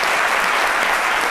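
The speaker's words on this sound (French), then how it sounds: "On va les applaudir comme ils sont tous petits." An audience claps steadily for a group of small schoolchildren on a television show set, a dense unbroken wash of applause with no speech over it.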